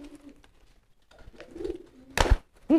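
Soft pigeon cooing, a low murmuring call repeated a few times, with a brief rustling flutter near the end.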